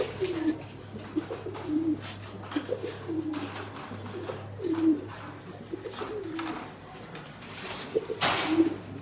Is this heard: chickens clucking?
no